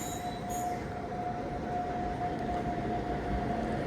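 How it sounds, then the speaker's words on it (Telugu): A train hauled by a WAP-7 electric locomotive, a steady rail rumble with a sustained squealing tone throughout, moderately faint, preceded by two brief high chirps. "చూడండి, వ్యాప్ 7 లోకోమోటివ్ సూపర్ అసలు ఇది."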